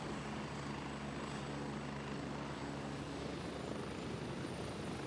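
A helicopter engine drones steadily in a jungle-set hardcore video game, the rotor's low thumping and turbine whine holding at a constant loud level throughout with no talk.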